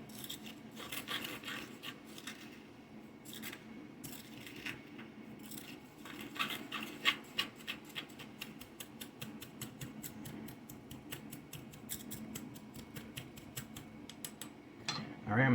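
Black salt ingredients are ground by hand with a soft, steady rasping and rubbing, faint and close, with small scraping clicks that repeat in an uneven rhythm.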